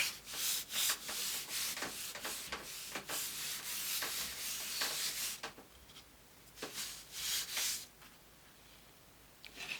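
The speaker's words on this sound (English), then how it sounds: "Flip it over, kind of rub from the back." Steady back-and-forth rubbing across the back of a scrap-wood floating frame, with a series of close, scratchy strokes and a brief pause partway through.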